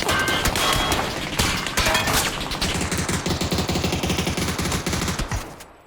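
Rapid bursts of automatic gunfire in the battle royale video game PUBG, loud and close, with repeated shots rattling steadily and no talk over them.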